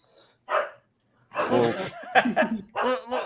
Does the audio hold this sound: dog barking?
yes